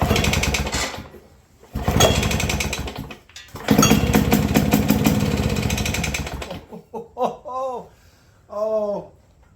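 A pre-1958 two-stroke lawn mower engine is cranked in a few loud, rough bursts of sputtering and clattering, broken by short pauses, followed by people talking.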